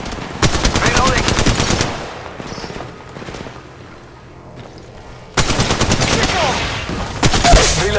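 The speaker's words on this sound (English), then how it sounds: "Contact. Shooting." Rapid automatic gunfire from Apex Legends Mobile in loud sustained bursts, stopping for a quieter stretch in the middle before heavy firing resumes and continues to the end.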